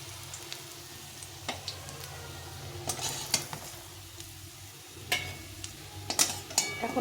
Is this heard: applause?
no